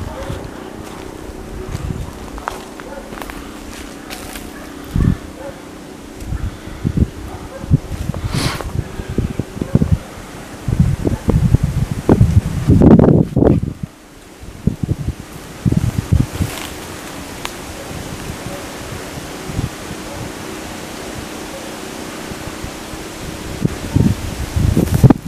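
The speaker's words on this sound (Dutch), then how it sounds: "Klank gaan rof wees met hierdie wind" Wind gusting through a forest, a steady rough rumble and rustle that buffets the microphone throughout, with brief quieter lulls and faint speech underneath.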